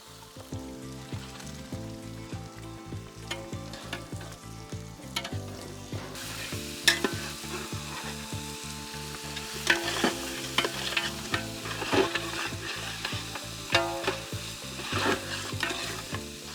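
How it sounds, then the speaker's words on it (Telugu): Ginger-garlic paste and green chillies fry in oil for a mutton curry, giving a bright, crackling sizzle with stirring taps, all under steady background music. "అల్లం వెల్లుల్లి పేస్ట్ వేగుతున్నప్పుడే దీంట్లోనే మనం పచ్చిమిర్చి కూడా యాడ్ చేద్దాం."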